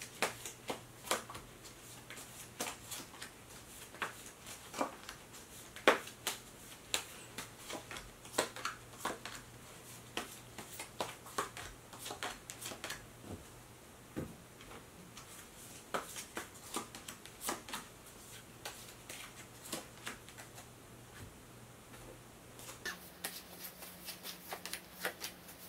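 Tarot cards shuffled and drawn by hand: a long run of soft, close, irregular card flicks, slaps and riffles, quiet overall, with a faint steady hum underneath.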